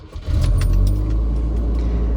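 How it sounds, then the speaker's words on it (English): A manual transmission truck with an exhaust leak cranks and fires up, then settles into a loud, rough, close low rumble that keeps running to the end. "But anyways, we're going to start the truck."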